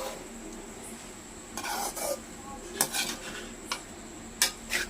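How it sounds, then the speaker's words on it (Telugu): Egg noodles being fried in a pan, with a faint low sizzle under several sharp metal scrapes and clinks of a utensil stirring against the pan, close by. "ఇలా నీట్గా ఫ్రై చేసుకుంటూ ఉండాలి ఫైవ్ మినిట్స్ వరకు"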